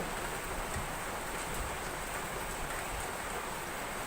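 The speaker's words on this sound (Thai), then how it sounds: "ตอนนี้ฝนตกนะคะ" Steady rain hisses down on a surface, a dense even patter with no voices, constant and moderately close throughout.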